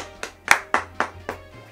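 Several people clap together in short, uneven bursts, about five or six sharp claps in under two seconds, fairly close and with no voices.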